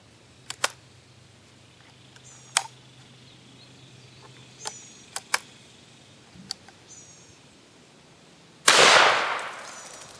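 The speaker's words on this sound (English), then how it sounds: "410 Super X slug Winchester, shooting through a Rossi" One loud .410 shotgun blast fires a Winchester Super X slug from a Rossi at a cantaloupe downrange, preceded by scattered faint clicks and handling sounds outdoors.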